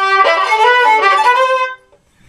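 Violin playing the fast closing passage of a song: a quick, bright run of bowed notes lasting about a second and a half, played alone and close, then cut off into silence.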